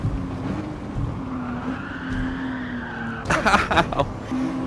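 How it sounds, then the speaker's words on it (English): A race car in Gran Turismo 7 drones along at high speed, then brakes hard, setting off a short burst of loud tire skidding and squealing before the engine note returns. "now slam on those brakes"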